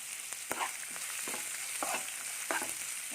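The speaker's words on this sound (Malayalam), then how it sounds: "ഒരു സവാള എടുത്തിട്ട് ഒന്ന് ഗോൾഡൻ ബ്രൗൺ ആവുന്ന വരെ ഒന്ന് വഴറ്റിയെടുക്കാം" Sliced onion sautéing in oil in a pan until golden brown, a continuous close sizzle broken by repeated scraping and stirring strokes.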